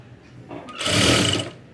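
A sewing machine stitches piping onto a blouse in one short run, rising from quiet into a steady, close whir for about a second and then easing off.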